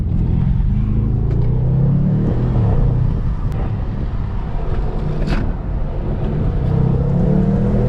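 A tuned 2020 BMW M550i's engine and exhaust hum steadily from inside the moving car, a mellow low drone with wind and road rumble at an even level, not loud.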